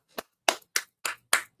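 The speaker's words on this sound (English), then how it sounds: "We got to give Dino a clap." A single person claps six times at a slow, even pace for a friend during a livestream; each clap is crisp, close and isolated, with silence between them.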